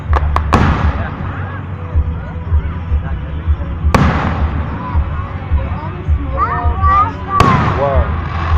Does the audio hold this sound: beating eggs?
no